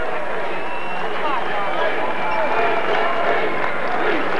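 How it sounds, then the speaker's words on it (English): A large basketball arena crowd at a 1988 NCAA tournament game roars and chants in a steady, loud wash of voices, with scattered clapping mixed in. "The crowd chanting Sweet 16 in the background"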